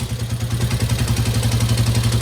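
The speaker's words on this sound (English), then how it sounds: "So I need to get this thing idling at its lowest point before it dies." A Honda CB350 twin motorcycle engine idles steadily, a low, even pulsing putter with light mechanical clatter, close and continuous throughout with no pauses.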